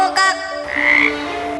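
A frog croaks in a short, loud burst of harmonic calls, alone and close by with no talking.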